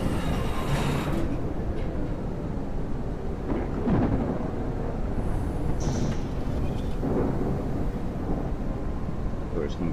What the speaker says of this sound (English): Oh, it's not a blizzard. It's a thunderstorm.